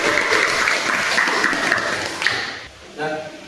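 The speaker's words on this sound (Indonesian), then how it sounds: "bagus sekali tepuk tangan" A classroom group claps together in a sustained burst of applause that fades near the end, loud and close, with a voice speaking briefly over it.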